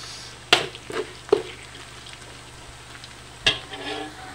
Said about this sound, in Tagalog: hintayin na lang po natin maging golden brown yung ating squid balls